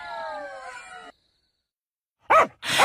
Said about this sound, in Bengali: এমন সময় দূর থেকে শেয়াল আর কুকুরের ডাক সম্মিলিতভাবে ভেসে আসছিল